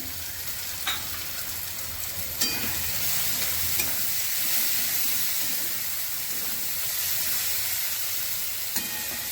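Chilli powder and green chillies sauté in a hot pan, giving a steady, close sizzling hiss throughout with a few sharp crackles and pops and no talking.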